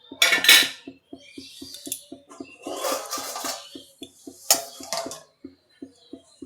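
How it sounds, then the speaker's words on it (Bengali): A metal lid clatters onto a cooking pot holding soybean, onion leaves and potato, with several clinks and scrapes over a fast, regular ticking underneath. "এবার ঢাকনা দিয়ে দেব।"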